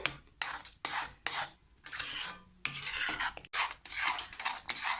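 Spoon scraping and stirring through thick tomato pickle in a bowl, a series of close, rhythmic rasping strokes with brief pauses between them, no talking.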